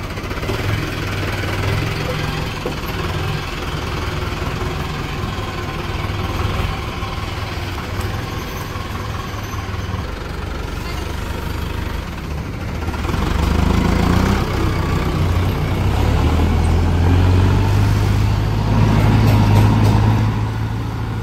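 A Kubota tractor's diesel engine idles and then pulls away after wiring repairs, a steady low rumble that grows louder and deeper partway through as it drives off, with some voices under it.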